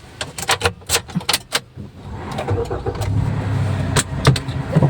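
A car engine cranks and catches in the rain after a few sharp clicks, then settles into a steady, fairly close idle that continues to the end.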